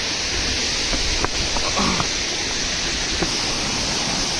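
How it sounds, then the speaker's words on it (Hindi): A waterfall rushes in a steady, loud, even roar heard from fairly close, with a few faint knocks and no talking. "और थोड़ा क्लोज से दिखाता हूँ मैं आपको झरना।"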